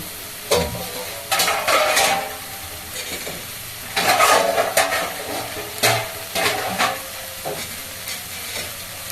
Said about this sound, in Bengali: এবারে গরম দুধ দিয়ে দেব